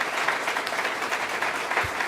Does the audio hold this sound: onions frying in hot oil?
no